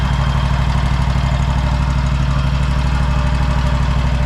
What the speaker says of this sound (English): The engine's running fantastic.